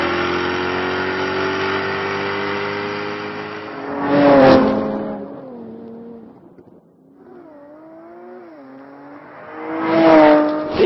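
A 2015 Jaguar F-Type V8 sports car with an eight-speed gearbox holds a loud, steady engine drone, then its revs surge and drop in several sharp bursts, close and clear with no talking.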